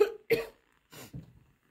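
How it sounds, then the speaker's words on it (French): Two pairs of short, dry coughs from a woman with a dry throat, close and fairly quiet, separated by a brief silence. "Excusez-moi de tousser"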